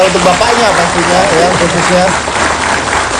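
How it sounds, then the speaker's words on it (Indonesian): Studio audience applause on a television talk show, a steady dense wash of clapping that runs throughout while a host keeps talking over it. "tepuk tangan dulu untuk mereka"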